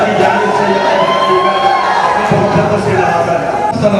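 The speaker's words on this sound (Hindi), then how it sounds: "मैं उनसे गुजारिश कर रहा हूँ कि 2 लाख तालियां इस्तेमाल करें" A crowd at a mushaira poetry gathering cheers and shouts loudly, a dense roar of voices with whoops and likely clapping mixed in, sustained and close throughout.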